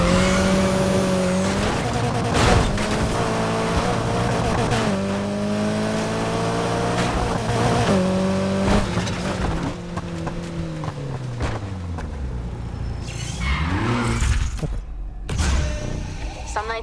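A car drifts through a mission in the Need For Speed Heat video game, its engine revving and shifting pitch under long, loud tire squeals that rise and fall as it slides, ending in a few sharp skids.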